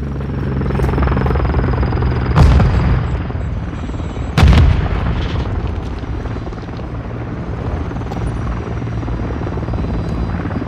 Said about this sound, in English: Grenade! Frag out.